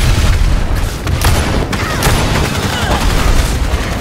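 Gunfire from a firing squad in the video game Evolve, a dense continuous barrage of booming shots and rapid bursts layered with combat noise and faint voices.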